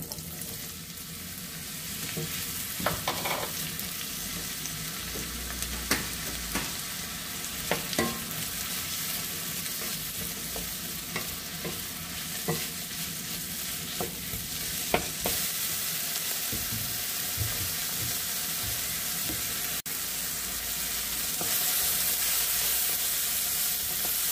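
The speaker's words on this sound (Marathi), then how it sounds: "तेल आपलं गरम झालेलं आहे, आता आपण त्यात कांदा टाकून घेऊया" Chopped onion sizzles steadily in hot oil while being made into restaurant-style matar paneer, a continuous frying hiss broken by occasional sharp stirring clicks against the pan. The sound is close and there is no talking.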